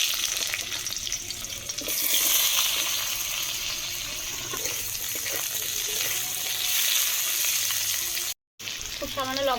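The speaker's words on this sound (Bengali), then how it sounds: "বড়া ভাজার তেলে আলু ভেজে নেব" Potatoes fry in oil left over from frying fritters, giving a steady broadband sizzle that swells and settles with occasional stirring scrapes, close and continuous for several seconds with a brief dropout near the end.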